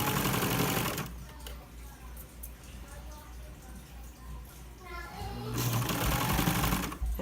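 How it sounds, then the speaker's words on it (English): A serger sewing machine stitches about an inch of seam to trim the thread tail, a loud steady motor hum running at the start and again near the end, with a quieter stretch between. "you sew for about 1 inch, and then you can have your thread tail get cut off"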